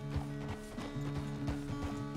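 Horse hooves clip-clop in the video game Red Dead Redemption 2, a steady rhythmic trot of close, crisp beats over sustained tonal background sound.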